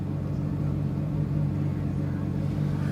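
Porsche GT3 RS front axle lift raising the car, a steady low mechanical hum with a faint tonal whine that holds evenly for the whole stretch.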